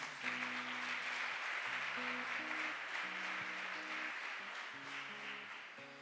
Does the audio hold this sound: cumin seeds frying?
no